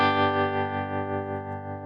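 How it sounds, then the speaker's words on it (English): A sustained electric guitar chord runs through Logic amp modeling with a vibrato effect, its distorted tone wavering in a steady, regular pulse, loud and alone. "So you can hear that kind of vibrato happening."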